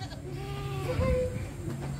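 A goat bleats on a Filipino goat farm raising large goats, a drawn-out wavering call rising over background farm noise and faint voices.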